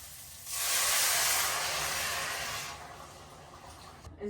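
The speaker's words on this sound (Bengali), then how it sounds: "মশলাটা কষানো হয়ে গেছে এখন আমি দিয়ে দিলাম গরম জল" A loud burst of hissing steam as hot water is poured onto fried spice paste in a hot pan for a fish and eggplant curry, swelling quickly then tapering into a softer simmer.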